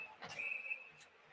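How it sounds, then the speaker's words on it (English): A referee's whistle at a college ice hockey face-off, one sharp shrill blast with arena crowd noise behind it. "Face-off win for the Wolverines, but a quick whistle, and rather than just giving Michigan the face-off win, they will kick Travis Boyd out of the face-off circle."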